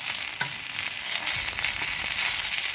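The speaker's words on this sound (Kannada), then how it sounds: "ಇದನ್ನು ಕೂಡ ಹೀಗೆ ಮಚ್ಚಾಕಿ ಚೆನ್ನಾಗಿ ಫ್ರೈ ಮಾಡ್ಕೊಳ್ಳೋಣ" Fish coated in tandoori masala sizzling steadily on a hot tawa, a continuous close crackle of frying with a few soft stirring knocks, no voices.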